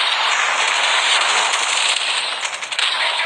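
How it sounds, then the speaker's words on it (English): A Predator missile strike in Call of Duty gives a loud, sustained roaring blast with dense crackling debris that fades slightly toward the end. "Hostile Predator missile inbound."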